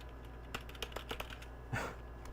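A computer keyboard being typed on during a retro modding stream, producing a few sparse, close clicks and taps in an otherwise quiet room.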